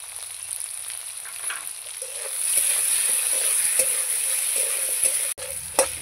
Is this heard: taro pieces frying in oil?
yes